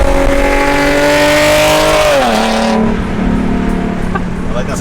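A Nissan 370Z fitted with a Tomei exhaust revs hard, its engine tone climbing, holding high, then dropping and settling into a lower drone; loud and close throughout.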